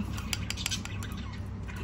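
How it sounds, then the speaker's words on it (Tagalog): Pet birds in a home with Persian cats chirp and tweet in quick, scattered bursts over a low background hum, moderately close and unaccompanied by talk. "Pasensya na yung mga ibon namin ay maiingay."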